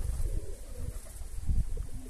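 A pigeon coos softly a few times against a low, rumbling background, fairly close but quiet.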